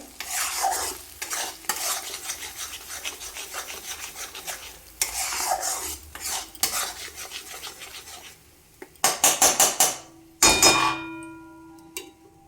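Mustard and poppy seed paste stirred and fried on a very low gas flame, with steady scraping strokes and a soft sizzle, then a few sharp clanks and louder bursts of sizzling near the end.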